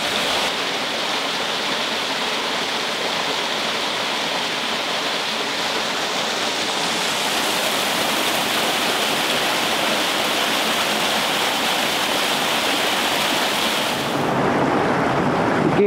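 Water runs constantly through a fish hatchery tank, a loud, steady rushing wash that continues unbroken for the whole stretch with no talking.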